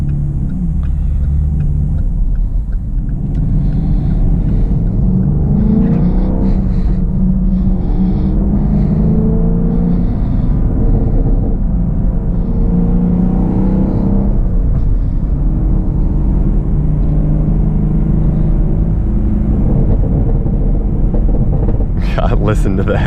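A deep, loud V8 engine rumble from a Chevrolet Camaro SS 1LE exhaust burbles continuously at idle with low throaty pulses, heard from inside the car while a person talks over it.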